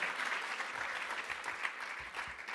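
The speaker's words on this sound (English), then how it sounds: "clap it up for that" A conference audience at a prison-abolition panel gives a round of applause, continuous scattered clapping heard from a distance, fairly soft, with a few louder claps standing out.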